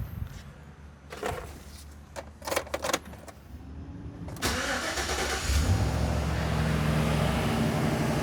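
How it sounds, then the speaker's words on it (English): A Chevy Express van starts after a brake booster job. Keys jangle, the engine cranks with a few bursts, catches and settles into a steady, close idle, with no talking. "So now we need to start the van"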